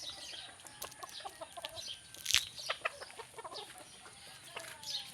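Large chickens cluck in a rainy backyard, a scattered series of close, moderately loud clucks and short calls with one sharper squawk partway through, and no one talking.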